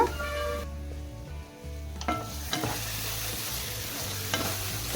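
Rice fritters (punugulu) fry in oil on a low flame, a continuous soft sizzle with occasional clinks of a spoon stirring against the pan.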